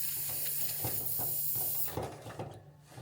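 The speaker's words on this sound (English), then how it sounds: "I'm still hearing a little bit of a leak when I turn this on" Propane hisses steadily from a leaking 1lb Fuel Keg tank at the threaded fitting, a broad continuous hiss with a low hum that drops in level partway through.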